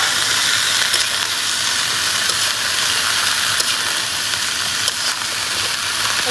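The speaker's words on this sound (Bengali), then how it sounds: "এখন ফুলকপি ভাজি করবো" Steady, loud hiss of hot oil sizzling in a kadai as cauliflower is set to fry for a night picnic meal, an unbroken wash of frying noise with no voices.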